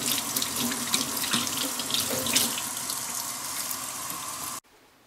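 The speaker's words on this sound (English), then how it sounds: "just run them over real quick with some water and shake them up a bit" Tap water runs into a sink while maitake mushrooms are rinsed under it, a loud, steady splashing stream with slight variations, then cut off abruptly near the end.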